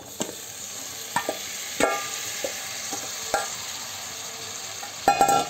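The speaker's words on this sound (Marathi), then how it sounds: "आता आपण त्यामध्ये जे मॅरिनेट केलेल्या भाज्या होत्या त्या मिक्स करणार आहोत." Marinated vegetables stirred into fried masala for paneer veg biryani, a low sizzle under sharp intermittent spoon knocks and scrapes against the pan, no voices.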